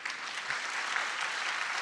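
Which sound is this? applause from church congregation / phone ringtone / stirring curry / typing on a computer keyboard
applause from church congregation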